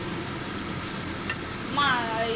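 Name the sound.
eggplant and hilsa fish frying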